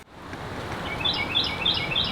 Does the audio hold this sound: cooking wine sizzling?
no